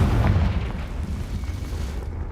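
The Confringo fire spell explodes in Hogwarts Legacy with a loud, deep boom and rumbling low roar that slowly fades over a couple of seconds, with no voices.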